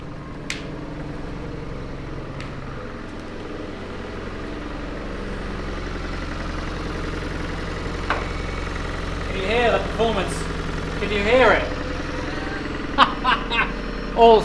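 Two-cylinder car engine of about 74 horsepower idling with a low, steady rumble, joined near the end by a few brief louder knocks and clicks close by.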